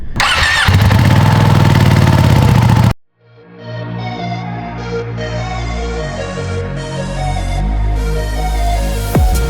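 A Ducati Panigale V2 Troy Bayliss edition motorcycle cranks loudly for a few seconds, pauses briefly, then fires and settles into a deep, steady idle that stays close and strong.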